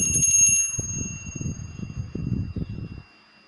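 A bell rings out brightly with a ringing tone that lingers and fades, while lower clattering, knocking sounds carry on beneath it for a few seconds.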